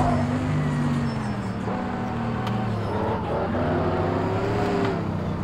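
A Mercedes-AMG GT3 race car in Project Cars 2 accelerates hard, its engine note a loud, steady drone with harmonics rising and shifting over several seconds, no voices present.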